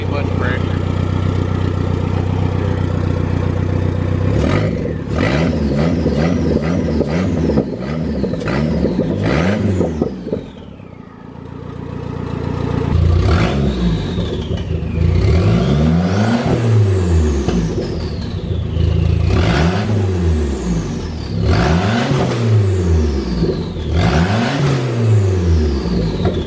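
An SRT4-swapped minivan engine with an upgraded intercooler pipe and fuel pump revs repeatedly, loud rising and falling sweeps with turbo whine and blow-off hiss, dropping briefly before more rhythmic revs.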